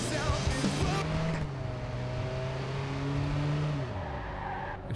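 Stolen car driving in the video game Watch Dogs, a steady engine drone with a gear change near the end, loud and continuous under background game sound.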